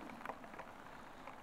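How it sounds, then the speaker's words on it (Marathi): Light rain falls steadily at a roadside stop during a motorcycle ride, a faint, even hiss with soft patters and no other sounds. "पाऊस बघा."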